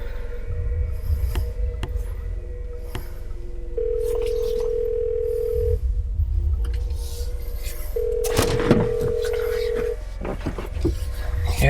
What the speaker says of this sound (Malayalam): ഇവനെന്താ ഫോൺ എടുക്കാത്ത?